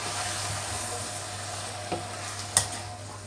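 Chopped tomatoes and onion are stirred in a frying pan, with a quiet continuous sizzle broken by a couple of short scraping clinks of the spoon against the pan.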